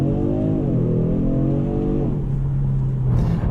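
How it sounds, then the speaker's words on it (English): A 2019 Genesis G70 car's engine and exhaust drone rises and settles with the revs, a steady, fairly flat tone heard close and loud, with no voices. "the exhaust note kind of sucks"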